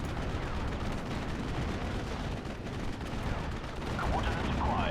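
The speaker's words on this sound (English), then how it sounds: "Actually, that's the flak swilling." Flak anti-aircraft guns firing in Steel Division: Normandy 44, a dense rumbling barrage of distant bursts that goes on for a few seconds at moderate loudness, with a game announcer voice faintly under it.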